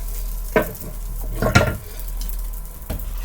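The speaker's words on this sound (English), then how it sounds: "All this meat now goes into the sauce." Pork meat tipped into a ragout sauce and stirred, giving a few distinct scraping, clattering stirs over a low, steady sizzle, close and moderately loud with no talking.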